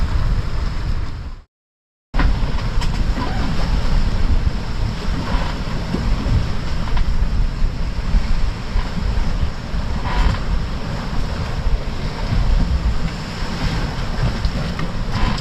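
Choppy sea waves and gusting wind at night aboard a sailing catamaran offshore, a constant loud roar of wash and wind buffeting with one brief dropout near the start, then unbroken surging noise.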